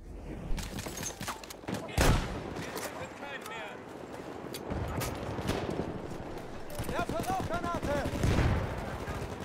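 Machine gun fire in Battlefield 1, heard as bursts of shots among battle noise with someone talking over it throughout, the firing growing denser toward the end.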